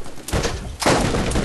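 Rapid gunfire from the shooter video game Borderlands, a loud burst followed by a denser, sustained volley of shots that runs nearly continuously to the end.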